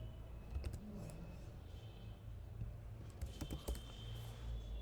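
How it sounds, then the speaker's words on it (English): Typing on a computer keyboard, with quiet clusters of light key clicks in short bursts and brief pauses between them, heard close up. "If I type this in URL"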